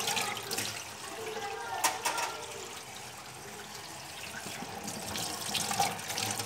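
Running tap water at a kitchen sink while a plastic drinking-water bottle is washed, a steady splashing rush with brief louder spurts as the bottle meets the stream, close and alone with no talk.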